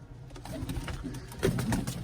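Low, throaty pigeon cooing rumbles close by, overlapping with rustling and faint background noise in a short burst.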